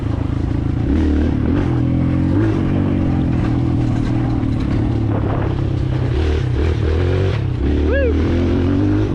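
A Kawasaki KLX 140L dirt bike ridden over gravel, its engine loud and close, droning and revving unevenly, with rattling and clatter from the rough surface throughout.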